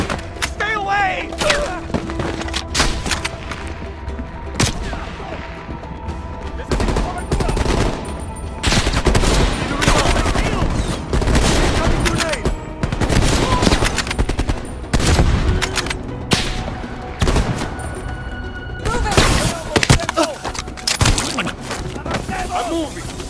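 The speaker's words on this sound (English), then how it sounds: "They're shooting at us!" Heavy gunfire in Call of Duty: Black Ops Cold War, dense automatic bursts and loud impacts crowding the whole stretch, with short pauses and shouted voices mixed in.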